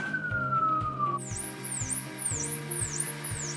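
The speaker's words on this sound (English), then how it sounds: "Okay, I had to let that siren go by." A siren wails up and down repeatedly as it passes, heard over a steady rhythmic mechanical thumping.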